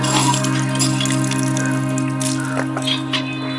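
Water gushes steadily from a hand pump, a continuous close splash and flow with a low underlying hum lasting throughout.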